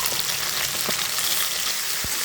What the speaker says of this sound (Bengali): দিয়ে আমি সুন্দর করে ভেজে নেব ভাজার জন্য আমি কিছুটা লবণ দিয়ে দিচ্ছি